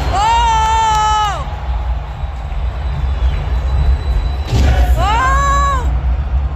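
Fireworks at an Asian Cup opening ceremony send out whistling, descending shrieks and dull thumps in two bursts, as a cheering crowd and excited voices carry on nearby.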